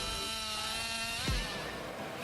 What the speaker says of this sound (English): 3120 chainsaw is equipped with a 32-inch blade